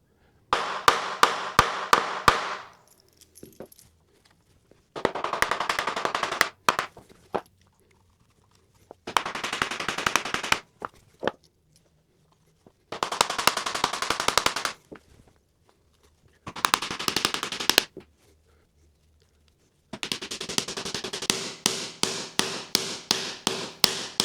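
T-nuts being installed into drilled holes for a Jeep seat-delete platform, heard as bursts of rapid, rattling mechanical impacts, likely a power tool, separated by short pauses, close and fairly loud.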